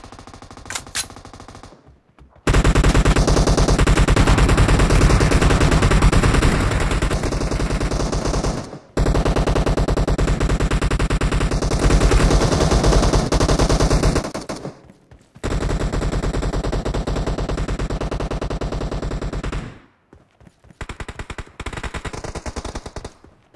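Automatic weapons fire in a PUBG team deathmatch, loud sustained machine-gun bursts rattling for several seconds each, separated by brief silent gaps.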